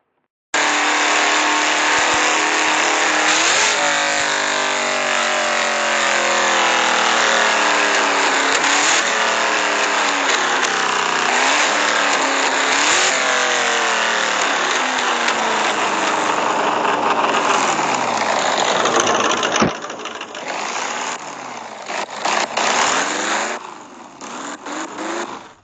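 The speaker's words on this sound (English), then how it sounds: "Ladies and gentlemen, start your engines!" Several car engines rumble and idle together, loud and close, with a dense steady drone for about twenty seconds before the sound breaks up into uneven bursts and dies away.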